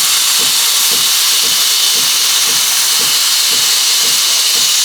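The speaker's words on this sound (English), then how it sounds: "we're building up a nice lot of steam" Steam wand of an espresso machine hissing loudly and steadily while steaming whole milk for a flat white, a continuous broadband roar with faint regular pulses beneath.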